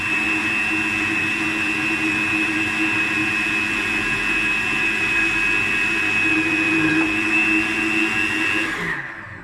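A blender runs continuously, mixing raw sesame hummus with added sesame oil, a loud steady whirring motor with a high whine that slows and cuts off near the end.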